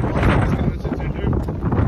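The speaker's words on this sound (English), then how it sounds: "Today is kind of like really windy." Strong wind buffets the microphone outside the Las Vegas convention center, a loud roaring rumble that gusts and dips over a couple of seconds.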